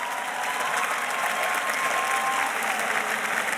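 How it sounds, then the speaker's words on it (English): Large crowd at the Queensborough Community College 2019 commencement ceremony applauding, a broad, even wash of many hands clapping from a distance, sustained and steady throughout. "You can applaud for that because it's important."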